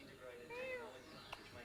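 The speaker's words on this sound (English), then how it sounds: "Kitty cat." A cat gives a single short, rising-and-falling meow, fairly faint against a murmuring background with voices around it.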